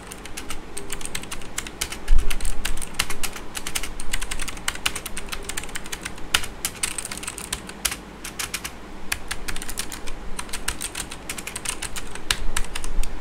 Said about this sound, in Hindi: मेरे पास मैकेनिकल कीबोर्ड है तो उसकी आवाज़ भी कितनी आती है बिल्कुल डिफ़ॉल्ट सेटिंग्स पर तो मैं कुछ टाइप कर देता हूँ